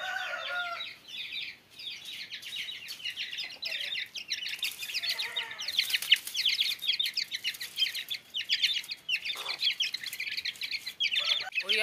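Two golden Misri chicks peep in rapid, high-pitched bursts, close and fairly loud, with brief pauses between clusters of chirps and no talking.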